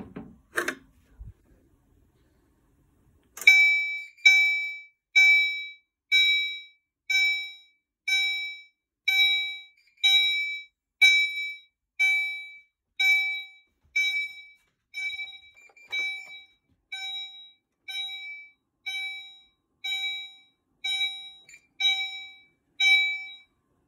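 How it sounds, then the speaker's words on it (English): A Potter PFC-4064 fire alarm system sounds after a CO-system pull station is activated: a loud, steady series of regular electronic horn pulses starts a few seconds in and repeats for the rest of the clip, with no talking. "We're going to pull the yellow pull station for the CO system."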